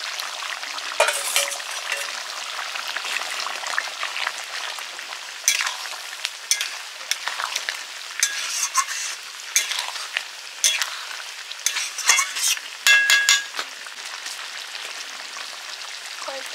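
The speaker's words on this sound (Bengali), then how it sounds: "মাংসটা কষানো চলছে।" Chicken kosha being sautéed and stirred in a pan for a Bengali festive lunch: a steady bright sizzle throughout, broken by frequent clicks and scrapes of the stirring spoon, with no talking.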